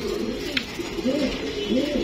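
Jabra blue-eye pigeons of an old breed, a male and female pair, give low rolling coos in repeated swells, close and steady, with a brief sharp click near the start.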